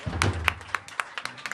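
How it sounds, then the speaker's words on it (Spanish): A church congregation claps for the Lord in scattered, uneven applause, a thin irregular patter of individual claps with a voice briefly underneath. "Dale un aplauso al Señor."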